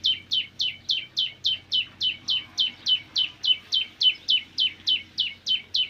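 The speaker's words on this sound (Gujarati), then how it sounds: "આ ઝીંકડી ચકલી આવી છે." A sparrow in a village repeats one sharp, bright chirp about three times a second, steady and clear close by, with only faint background noise.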